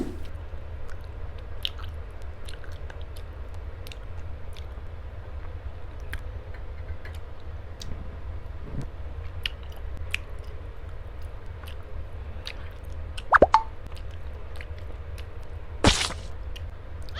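Grilled shellfish chewed close to the mic, with soft intermittent squishy bites and faint crunches over a low background hum, plus a couple of sharper clicks near the end; no talking.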